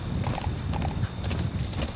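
A horse in Metal Gear Solid V clip-clops along with rapid, rhythmic hoofbeats, close and fairly loud, and a short whinny mixed in, with no talking.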